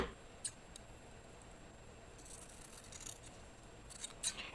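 Scissors snip through a two-inch-wide strip of hair for a lace front wig, giving a few faint, crisp close snips with brief clicks and quiet pauses between them, with no talk.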